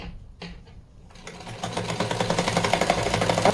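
A sewing machine stitches fabric for a small designer dress for a Laddu Gopal idol, starting after a few soft clicks and building into a steady, close, rhythmic whir.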